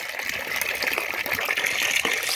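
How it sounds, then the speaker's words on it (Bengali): Water gushes steadily into a bathtub filling with cold water for an ice bath, a continuous near rush of pouring liquid with no voices. "এখানে জল অলমোস্ট ভরে গেছে"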